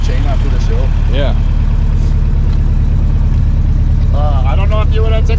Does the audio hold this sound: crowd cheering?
no